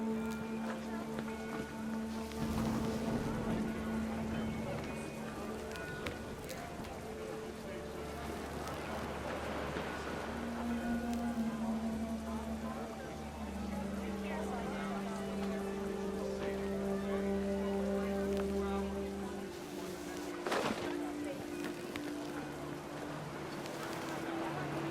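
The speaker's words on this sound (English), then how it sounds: "The rain came down in buckets then" Heavy rain pouring steadily in the video game What Remains of Edith Finch, a dense continuous hiss lasting throughout, with a low droning hum and a voice speaking over it.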